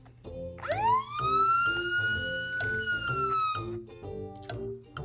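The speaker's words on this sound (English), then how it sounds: "A police car sounds its siren on its way to an emergency." A police car siren rises in pitch and holds a long steady wail over rhythmic background music, loud and close, then fades slightly toward the end.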